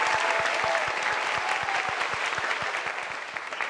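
A television studio audience in a talk show applauds steadily in a dense wash of clapping, with a regular low thumping beat running underneath throughout.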